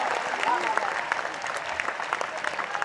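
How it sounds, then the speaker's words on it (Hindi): Audience applause at a Hindi poetry recital in Bhopal: a dense crowd clapping steadily, fairly loud and close, with a few sharper individual claps standing out and a voice briefly over the start. "थोड़ा और जोर से ताली बजा दीजिए"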